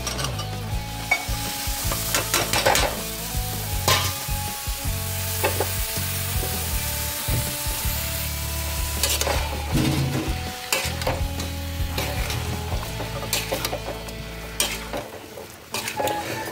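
Potatoes, cauliflower and carrots sizzle steadily in a hot pan, with repeated scraping and stirring strokes and occasional clinks of a utensil against metal, close by.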